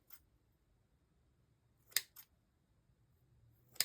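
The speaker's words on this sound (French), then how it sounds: "je coupe le papier" Scissors snip through paper during a craft album project, giving a few crisp, sharp cuts close by, with one quick double snip midway and another at the end, separated by near silence.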